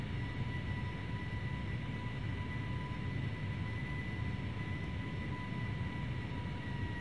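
Boeing 757 engines in Flight Simulator X give a steady, even jet drone with a faint whine, unchanging and moderately quiet throughout, with no talk over it.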